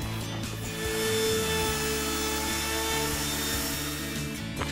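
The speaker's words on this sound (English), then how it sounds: "we can then get another router with a round on it and put" Router fitted with a rounding bit trimming the edge of a solid surface worktop, a loud continuous whine and rasp held steady throughout.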